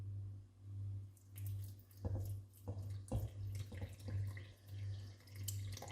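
Roughly 250 ml of water poured onto yeast and a teaspoon of sugar for homemade bread, a close, uneven splashing pour over a low steady hum, with no voices.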